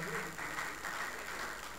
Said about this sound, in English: A round of applause for QS Olaniyan